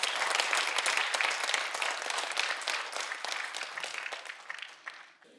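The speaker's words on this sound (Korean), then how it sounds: "오늘 수상하신 모든 분들을 위해 다시 한번 큰 박수로 축하 부탁드립니다." Audience applause fills an awards ceremony hall at the 42nd Catholic Awards in South Korea, a dense, steady wash of many hands clapping that gradually thins and fades near the end.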